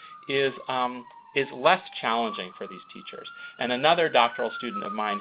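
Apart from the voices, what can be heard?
emergency vehicle sirens passing outside near a hospital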